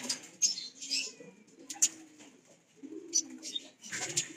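Pigeons in a loft coo in low soft murmurs, with wing flaps and faint chirps, close and continuous.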